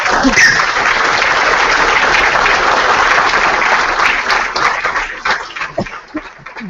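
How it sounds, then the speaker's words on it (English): Sustained audience applause at a Latin@ coder summit morning session, a dense steady clapping that thins and tapers toward the end into scattered claps. "I'm going to ask for one more round of applause."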